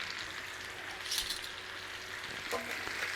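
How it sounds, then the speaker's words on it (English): Pork chops seasoned with paprika, rosemary and thyme sizzle in a pan over low to medium heat, a continuous close crackle punctuated by brief scraping and tapping as the chops are flipped. "Flip them over again."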